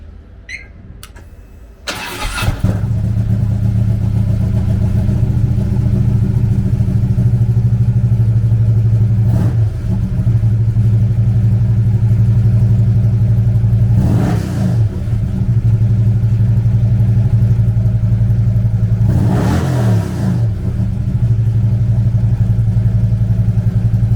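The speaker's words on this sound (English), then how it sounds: "Powered by a 110 cubic inch V-twin motor, the Road Glide puts 115 foot-pounds of torque through a 6-speed transmission." A 2011 Harley-Davidson CVO Road Glide Ultra with a 110 cubic inch V-twin starts up and settles into a loud, steady idle, close by, with a few brief throttle blips along the way and no talk.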